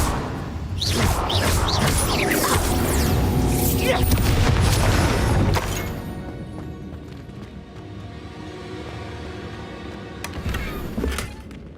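Expelliarmus spell cast in Hogwarts Legacy: a loud, busy burst of magical whooshing and booming impacts that fades to quieter game ambience, with a final short flare near the end.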